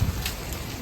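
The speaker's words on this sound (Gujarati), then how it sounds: "કરા પડે." Hail mixed with heavy rain falling outdoors, a steady dense hiss of drops pattering on surfaces, continuous and fairly close, with no voices.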